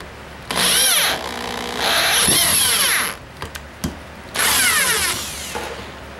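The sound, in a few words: drill drilling into wood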